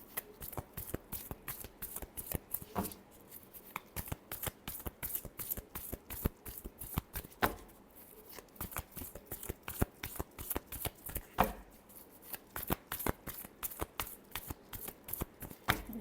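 Tarot cards are shuffled continuously by hand, a rapid rhythmic riffling and flapping that repeats in quick bursts close up, quiet and without talk.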